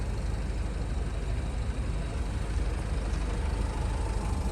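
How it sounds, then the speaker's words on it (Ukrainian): Renault Koleos 2014 2.0 diesel with automatic transmission idling, a steady low even rumble with faint background hiss, continuous and unvarying, no one speaking. "Мотор працює, як я вже казав, дуже рівно, дуже гарно."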